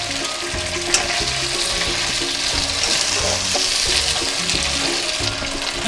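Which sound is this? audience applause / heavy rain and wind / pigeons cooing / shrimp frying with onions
shrimp frying with onions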